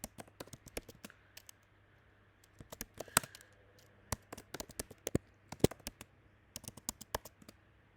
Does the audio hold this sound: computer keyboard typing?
yes